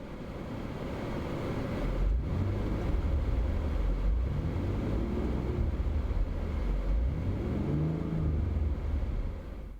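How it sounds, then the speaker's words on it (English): From inside the cabin of a 2022 BMW X3 M40i, the engine purrs as a low, steady hum, rising and falling in pitch through gear changes. It is moderately quiet and there is no talking. "It makes a really nice purring sound to the engine."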